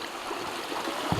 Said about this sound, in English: Here we are at the Crow Creek.